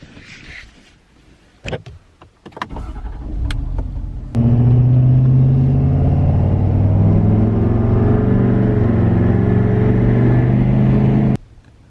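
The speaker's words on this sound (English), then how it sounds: "the sleep sound semi-truck gear shifting, 10 hours of semi gear shifting." A heavy semi-truck engine, a Cummins, rumbles loudly and steadily, its low drone rising and settling as gears change, after a few sharp clicks and knocks at the start.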